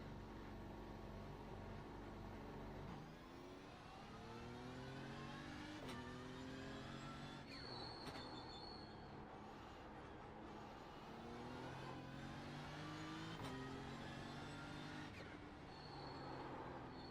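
Race car engine in the iRacing video game at Okayama, revving hard under throttle with repeated rising gear sweeps and brief drops between shifts, loud and continuous.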